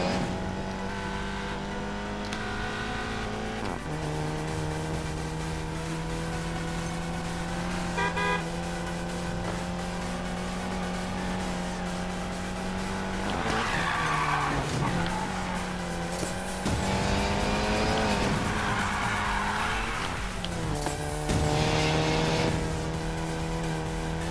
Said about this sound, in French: on va essayer de faire un petit peu de drift quand même